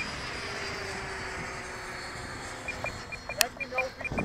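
F-105 jet aircraft coming in to land, its engine a steady, moderately loud whine and roar, with brief radio-style voice chatter toward the end.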